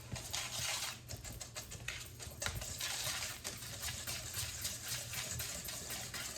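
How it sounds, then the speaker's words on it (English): Zucchini bread batter with white sugar being mixed by hand in a regular bowl gives a close, continuous wet patter and rapid clicking strokes, fairly soft, with no voices. "we're going to mix this up"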